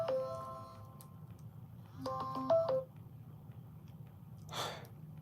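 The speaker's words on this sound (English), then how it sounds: "See this phone, That's why I stopped to do the show on this phone today, because I see it's ringing." A phone rings with short melodic tonal bursts, one near the start and another a couple of seconds later, set over a low steady hum, followed by a brief breathy noise.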